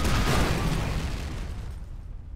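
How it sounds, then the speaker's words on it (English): Loud explosion booms from combat in the first-person shooter F.E.A.R., a dense broadband roar in the first second that slowly decays over the rest of the clip. "Those explosions were incredibly loud in my ears"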